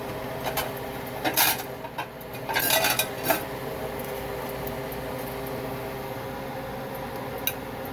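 Vegetable fried rice with shrimp is served out of a pan, with a few loud metallic clanks and scrapes of a utensil against cookware early on, then a quiet kitchen room tone.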